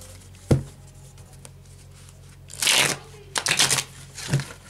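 Tarot cards shuffle in a few quick riffling bursts up close, with soft taps and handling noises between them over a quiet room background.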